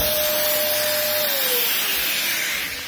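A compact Vonhaus vacuum cleaner runs steadily and loudly nearby, its motor whine holding an even roar with a slight pitch drift before easing off toward the end.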